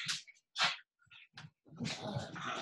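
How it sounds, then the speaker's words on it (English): Dogs playing on a play mat during a yoga session, with close, short bursts of panting, snuffling and playful growls separated by brief silences, then a longer rough breathy stretch. "the dogs are playing on their play mat"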